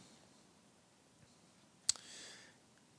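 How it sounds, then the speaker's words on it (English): A single sharp mouse click sounds close and clear, followed by a faint brief whoosh of computer noise, against a quiet room background. "And I'll just click OK"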